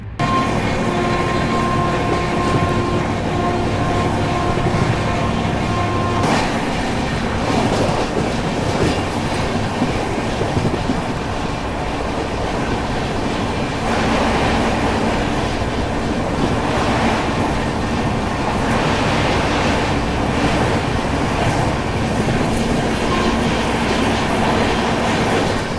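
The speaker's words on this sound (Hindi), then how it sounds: "हमारी ट्रेन ओवरटेक करने वाली है वडोदरा धानू रोड सुपरफास्ट को" Inside the Karnavati Express between Ahmedabad and Mumbai, the train rumbles and clatters loudly and continuously as it overtakes the Vadodara–Dhanu Road superfast, with wheel noise and passing-train roar swelling midway.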